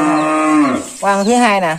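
A cow on a Vietnamese cattle farm lets out a loud, close, drawn-out moo, then a second rising moo after a short break, with someone speaking over it.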